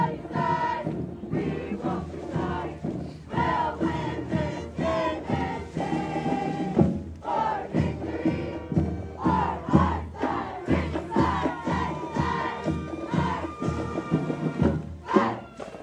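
A high school marching band and cheer team, the Pride of Sunnyside, performing at the Tucson rodeo parade: loud rhythmic group chanting and shouted cheers with pulsing beats, steady and close throughout.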